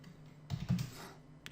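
A few soft taps on a computer keyboard while entering a name into a PHP and MySQL form, faint and close, clustered in one short burst with a couple of later keystrokes.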